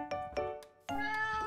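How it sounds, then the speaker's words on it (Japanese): A cat in the block-building game Minecraft meows clearly and close, several short tonal mews followed by a longer drawn-out meow, with nobody talking. "本当にクロノアさんの猫今泣いてんのかと思った"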